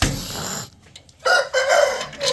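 An aseel rooster crows loudly and close by, a strained harsh call broken by a short gap before a second rising, drawn-out crow with no talk.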